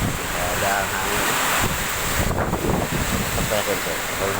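Strong wind with rain roaring and buffeting against the microphone, a constant broadband rush with gusts, with faint voices underneath.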